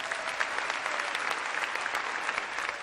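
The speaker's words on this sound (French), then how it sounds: "Vous applaudissez, c'est la première chose que je vais vous demander ce soir" Crowd at an evening circus festival show applauds steadily, a thick, even layer of many hands clapping at moderate distance, with no talk over it.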